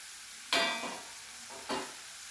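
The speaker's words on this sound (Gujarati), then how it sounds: "ગેસની ફ્લેમ હવે થોડીક ફાસ્ટ કરી દેવાની, જેથી ઉપરથી દાણા સરસ ક્રિસ્પી થઈ જાય." Crispy corn kernels fry in a pan over a raised gas flame, heard as a faint low sizzle broken by two brief, louder bursts of crackling as they are stirred.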